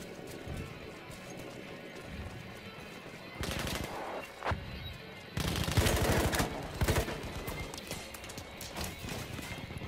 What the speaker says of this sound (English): Where's all that gunfire coming from?